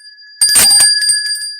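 A bicycle-style bell rings sharply with a bright metallic ding followed by a couple of quicker rings and a lingering ringing tone, close and loud with no talk.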